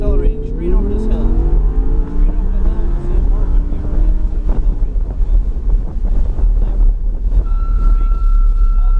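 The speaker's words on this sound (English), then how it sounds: "We're accelerating straight over this hill." Race car accelerating hard up and over a hill, a loud rising engine note with climbing harmonics, buffeted by heavy wind noise and steady rumble throughout, with a thin whine appearing near the end.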